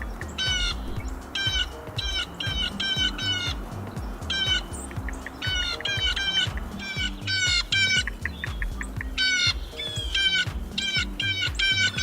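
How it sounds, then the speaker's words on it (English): A large flock of blue jays calls across an open field, with harsh, repeated squawks in rapid bursts coming from several birds, some near and some farther off, continuing steadily throughout. "I have a very large flock of blue jays over here."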